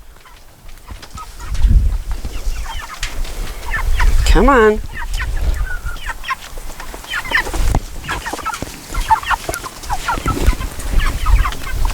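Chickens cluck and squawk in a coop, close and fairly loud, with an excited rising call in the middle and scattered shuffling; a person speaks briefly among the birds.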